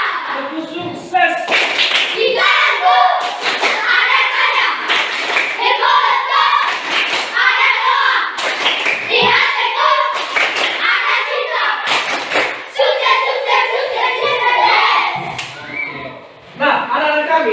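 Schoolchildren in a classroom perform a rhythmic clapping chant, loud bursts of many hands clapping in patterned beats alternating with their chanting voices.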